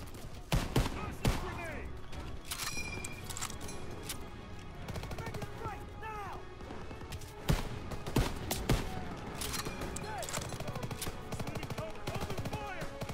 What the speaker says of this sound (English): Oh crap, who's shooting at me?